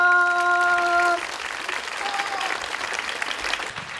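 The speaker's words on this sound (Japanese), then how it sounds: "改めまして登壇者の皆様に大きな拍手をお願いいたします" An audience claps for the cast on stage at the opening-day greeting for the film Cinderella Game: a brief held musical tone fades out as loud, sustained applause from a large crowd carries on.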